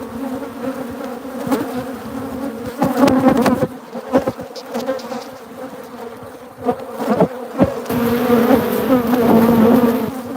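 Honey bees buzzing loudly in an opened hive, a dense close drone that swells and fades with sharper passes of individual bees near the microphone.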